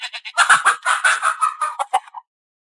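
A rooster crows loudly and close in a rapid series of harsh, broken cackling calls lasting about two seconds before cutting off into silence.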